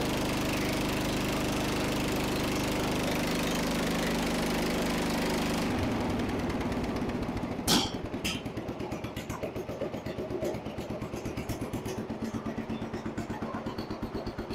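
A small Jacobsen Chief 800 riding mower engine runs loud and steady at high idle, then its pitch shifts and it keeps chugging with an even, rapid pulse nearby.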